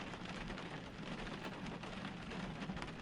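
Steady falling rain hisses as a dense, even wash over about three seconds in an outdoor scene, with a low rumble underneath and no voices.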